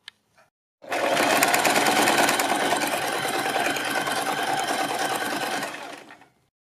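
A sewing machine stitches a neck strip onto a kurti in one sustained run of about five seconds, a loud close buzzing whir with fast needle chatter, starting and stopping cleanly with silence around it.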